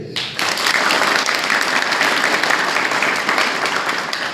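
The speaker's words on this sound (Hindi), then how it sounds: "ये परिसर एक बार इस कॉलेज के लिए जोरदार ताली बजाइए।" An audience applauds loudly and steadily for a college at an event on its campus, the dense clapping continuing for several seconds after a sudden start.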